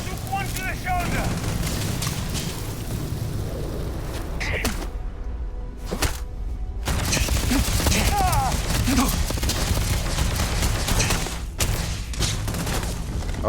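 Video-game gunfire cracks out in rapid, loud bursts and scattered shots, with voices talking over the shooting.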